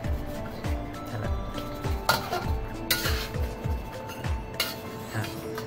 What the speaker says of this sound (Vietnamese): Mình cứ xào như vậy cho tới khi nó thấm là mình là bắt xuống